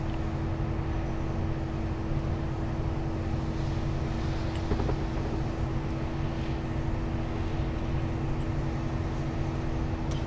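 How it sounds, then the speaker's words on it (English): Steady diesel drone of a Class 57 locomotive fitted with a GE engine, a constant loud rumble with a steady low hum, unbroken and without talk. "Sounds like an American loco, that's because it's got a GE engine"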